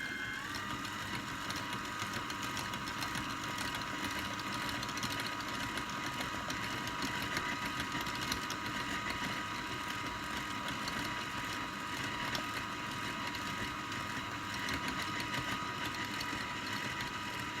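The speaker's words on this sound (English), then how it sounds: "my mixer's making funny noises" A steady mechanical whir of a stand mixer motor, making funny noises while whipping Italian meringue as sugar is slowly added, runs continuously at even volume, with a constant hum and no voices.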